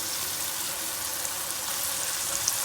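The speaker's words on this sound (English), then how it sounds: "I'm just going to fry it for a minute." Chickpea masala for pindi chana fries in oil, giving a steady, even hiss of fine crackling sizzle that holds through the whole stretch without any voice.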